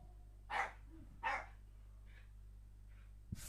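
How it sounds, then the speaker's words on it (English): Dog barking nearby, two sharp barks followed by two fainter ones over a steady low electrical hum, with no talking. "Fucking dog."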